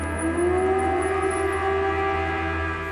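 A steady air raid siren in Ukraine wails with a slowly rising tone, loud and continuous throughout, no voices.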